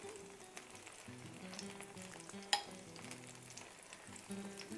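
Meat for birria tacos sizzles and fries steadily in a hot pan, a continuous crackling hiss with a sharp clink partway through, heard close with no talking.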